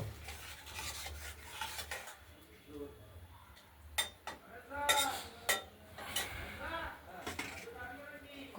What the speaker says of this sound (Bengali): ভালো করে মশলাটাকে আমরা কষিয়ে নেব